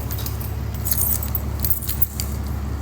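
A bunch of keys jangles in short shaking bursts near the microphone, with a steady low rumble behind them, in a garage with a Monte Carlo SS being restored.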